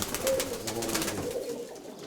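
Pigeons of an old blue-grey line coo softly and steadily at close range. The low, throaty calls overlap continuously.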